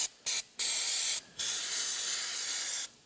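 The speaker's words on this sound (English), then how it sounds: "go ahead and spray down those headers, get all that oil off" Aerosol cleaner sprayed onto the oily exhaust headers of a Honda CBR 600RR motorcycle during an oil change, several loud close hissing bursts: three short ones, then two longer sustained sprays.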